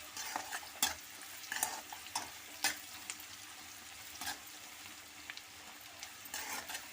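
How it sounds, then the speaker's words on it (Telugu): Onions and fenugreek leaves frying in a pan for a Telugu-style boti (tripe) curry, a steady soft sizzle broken by repeated sharp scrapes and clatters of a spoon stirring against the pan, with no voices. "ఇప్పుడు ఆనియన్ నేను బాగా ఎర్రగా వేయించాలండి"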